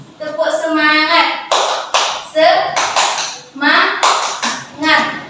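Rhythmic classroom clapping for a cheer led by a teacher, sharp hand claps in short repeated bursts mixed with the teacher's and children's voices chanting along.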